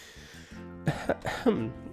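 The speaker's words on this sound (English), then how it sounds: "making your companion cough heavily" A companion coughs heavily in a dust-filled room, a few harsh, rasping coughs in quick succession with a throat-clearing quality, close and distinct over a faint low hum.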